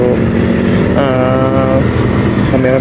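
A motorcycle engine hums close by during a group ride of about five motorcycles headed for Senuda, Bukidnon, a steady drone that rises in pitch midway as the rider accelerates.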